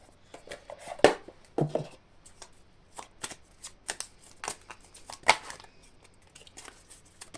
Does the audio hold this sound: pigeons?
no